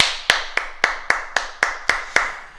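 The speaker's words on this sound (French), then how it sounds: "Et on s'applaudit, mesdames, messieurs." A martial arts class claps in unison, eight sharp, evenly spaced claps close by in a steady rhythm, with no talking.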